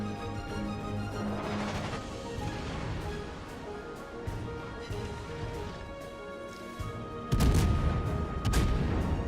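Battleship main guns firing a salvo of high-explosive shells in World of Warships, a dense rumbling barrage under game music that builds to a heavy, loud boom near the end.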